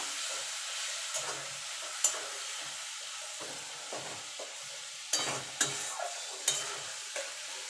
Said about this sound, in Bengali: সামান্য একটুখানি জল দিয়ে দেবো, দিয়ে মশলাটাকে একটুখানি কষিয়ে নেব